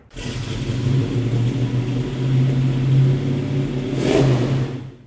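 A 1967 Ford Mustang Fastback engine revs loudly nearby, its pitch rising and falling in a sustained drone, ending in a sharp blip before cutting off.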